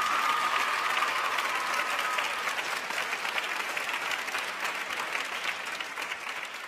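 Children in a preschool Quran class clap for a young pupil and their teacher, a steady, dense round of applause that holds evenly throughout and eases off slightly toward the end.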